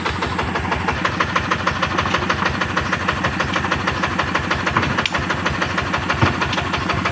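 A dompeng diesel engine fitted with a chain-driven double setup and an 8.5 engine runs steadily and loudly up close, its continuous throbbing rhythm pulsing evenly without pause.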